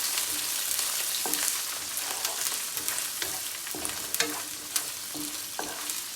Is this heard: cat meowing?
no